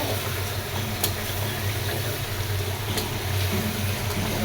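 Mutton frying down as bhuna in a pan covered with a small lid gives a steady, low, even sizzle with a faint hum beneath and a couple of brief clicks, with no voices.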